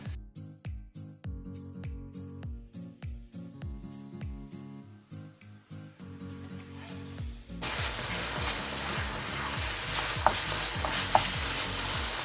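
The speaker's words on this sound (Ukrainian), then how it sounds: "Поки фарш обсмажується" Chicken and pork mince fries in a pan with a steady, close sizzle that starts partway through and continues to the end, joined by occasional stirring clicks over light background music.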